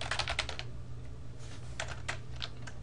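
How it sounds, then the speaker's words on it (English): Fingers tap out a Linux terminal command on a computer keyboard, giving a few quick clusters of light, close key clicks separated by short pauses over a faint background hum. "if we type ifconfig"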